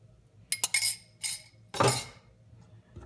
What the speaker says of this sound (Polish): z mąką wymieszam naszą wodę oraz drożdże